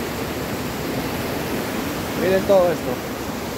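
A steady rushing roar from the Cinco Cerros waterfall and its natural pool at San Mateo de Otao fills the scene without a break, with a short spoken remark heard near the end.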